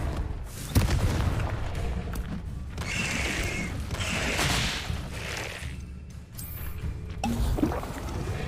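A Confringo fire-blast spell goes off in Hogwarts Legacy with a sharp booming hit early on, then rumbling, whooshing game ambience and a second thud near the end, all moderately loud with no talking.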